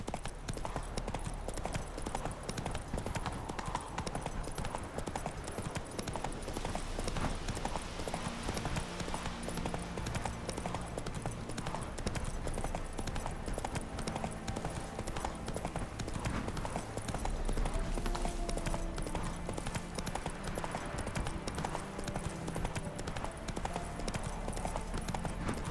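Roach the horse trots through The Witcher 3 with a steady, rhythmic clip-clop of hooves that runs the whole time, layered over game ambience and music, with a faint voice now and then.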